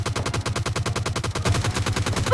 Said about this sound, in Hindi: कौन है भैया इतना गोली चला